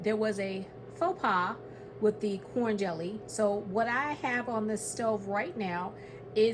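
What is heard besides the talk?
None of the usual background noises is heard.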